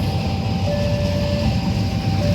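A locomotive moves slowly as it is turned around to pull a KRL commuter train, a former Japanese commuter train, into the PT INKA works. It gives a steady, loud low rumble with a sustained high whine running throughout.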